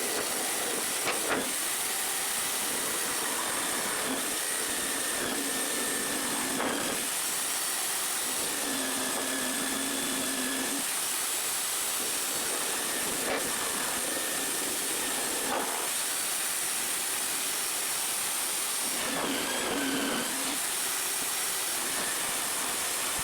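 A jigsaw cutting pieces for a homemade bench vise gives off a steady, harsh buzzing hiss in several long passes with brief pauses between them, a faint background whine running throughout, and no talking.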